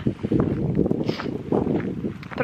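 Wind gusts outdoors on a spring walk, buffeting the microphone with a steady low rumble and rustle through the whole stretch, loudest in bursts near the start and middle, with no voices.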